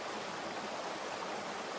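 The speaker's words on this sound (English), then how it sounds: "get somewhere where the water is moving" Fast-moving stream water in a forest at Pisgah National Forest, a steady, full rushing flow heard close and alone, with no voices.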